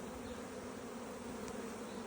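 Bees in large numbers swarm around a bee cube hive, making a dense, continuous close-up buzzing drone with no voices.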